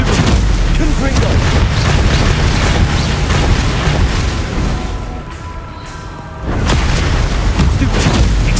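Heavy, booming Confringo spell blasts from Hogwarts Legacy fill the scene with loud, continuous crackling detonation noise that briefly eases midway before surging back at full force.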